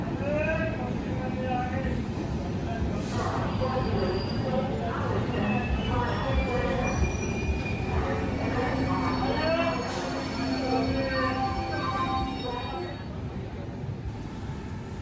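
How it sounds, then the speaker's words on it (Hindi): The Thiruvananthapuram–Amritsar Superfast Express pulls into a station platform, its wheels squealing in drawn-out metallic tones over a steady rumble of rolling cars, loud and close. "तो सामने एक और ट्रेन का अराइवल हो रहा है, यह है तिरुवनंतपुरम अमृतसर सुपरफास्ट एक्सप्रेस।"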